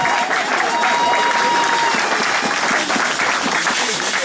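A church congregation applauding and cheering in praise, a dense, loud, continuous wash of clapping from a large crowd filling the whole stretch.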